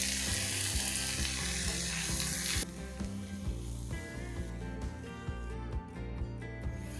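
Onion, tomato and tamarind sauté in a pan for a Tamil vathakku chutney, giving a steady loud sizzle with scraping and stirring clatter throughout, no talking.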